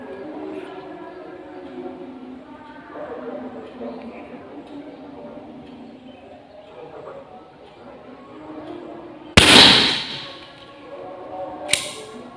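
A mini slingshot dart is fired: a sharp snapping release, then a second brief snap moments later, over a quieter stretch of low background talk.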